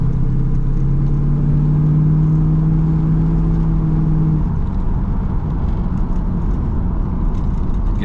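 A Corvette engine hums steadily from inside the car, a low exhaust drone that drops in pitch partway through before settling into a rougher rumble.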